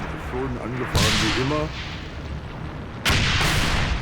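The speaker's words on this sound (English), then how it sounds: "the Shermans attack at full throttle and with all guns blazing" Sherman tanks firing their guns in a desert tank battle in Tunisia, two heavy booming blasts about two seconds apart, loud and close, with a voice speaking beneath them.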